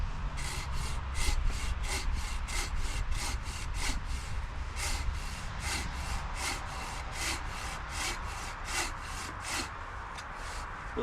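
A small folding pocket saw cuts through a wood limb in steady, rapid back-and-forth strokes, each rasping pass close and loud with no one talking.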